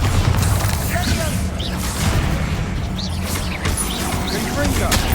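Spell blasts from Bombarda and Confringo in the Hogwarts Legacy video game, a series of booming impacts and whooshes layered over game effects, with a voice speaking the spell names through them.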